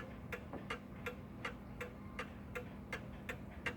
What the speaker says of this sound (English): Alright, so this is obviously a Sessions clock.